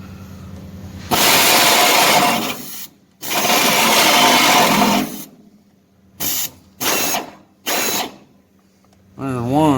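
A drill bores a hole for car subframe connectors in several bursts: two long runs of loud, grinding whir, then three short trigger pulls, and a final spin-up, with silences between.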